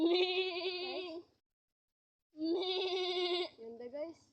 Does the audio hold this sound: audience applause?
no